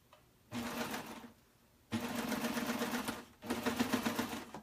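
A sewing machine stitches a two-thread flatlock on very stretchy fabric at the longest stitch length, in three close whirring runs separated by short quiet pauses.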